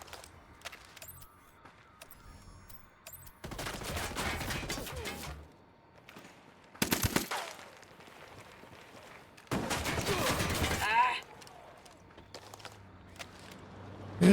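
Gunfire in the tactical shooter Ghost Recon: Wildlands, with bursts of rapid shots in several separate volleys, some sharp and close, others longer and rattling, between quieter stretches of ambient game sound.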